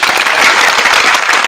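A live audience claps steadily in dense, continuous applause, loud and close, with no voices breaking through.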